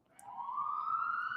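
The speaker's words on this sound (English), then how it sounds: "ooh, sirens." A single siren tone rises steadily in pitch, faint and distant, growing slightly louder over a second or so.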